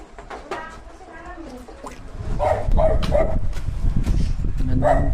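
A dog barks a few times amid people talking, with background chatter growing louder partway through.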